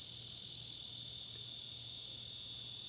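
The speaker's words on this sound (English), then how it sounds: "the nature is really loud today out here. I guess that's cicadas still hanging around." Steady, loud high-pitched insect buzzing, like cicadas, drones without a break, with a faint low hum underneath and no voices.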